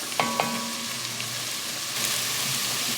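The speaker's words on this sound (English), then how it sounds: "now that this has sauteed for about 5 minutes" Vegetables for cauliflower soup sauté in a pot with a steady, close, even sizzle. Two quick clinks of a utensil against the pot come near the start, and no one talks.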